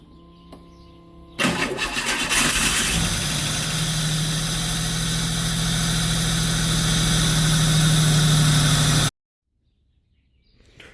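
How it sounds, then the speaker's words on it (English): A car engine cranks briefly after a timing chain replacement, catches, and roars into a steady loud idle that runs for several seconds before cutting off abruptly. "So we go ahead and crank this up right now."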